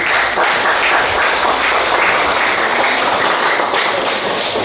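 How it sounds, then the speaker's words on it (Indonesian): An audience at a Waisak celebration in a Buddhist temple hall applauds in a dense, loud, sustained wash of clapping that runs without a break from start to finish. "Tepuk tangan buat kita semua."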